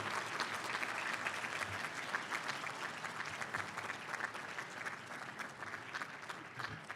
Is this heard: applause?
yes